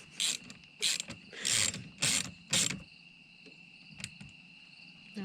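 Ratchet socket wrench working on a GMC Sierra, five loud, bursty runs of rapid clicking in the first three seconds, then quieter scattered ticks and a faint steady whine.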